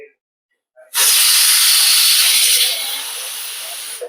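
A pressure cooker whistle goes off while onions cook for a korhuda vegetable dish: after a short quiet moment, a sudden loud, close rush of hissing steam starts and holds for about three seconds, easing slightly toward the end.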